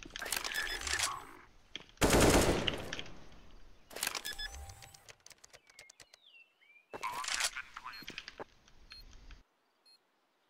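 Bursts of video game gunfire in a competitive shooter match, with several separate volleys of rapid shots and short pauses between them, loud and close, with no talk over them.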